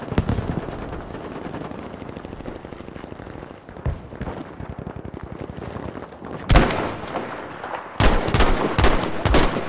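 Battlefield 5 sniper-map combat: a steady stream of rapid gunfire cracks and thuds, with heavier, louder blasts near the end, dense and close.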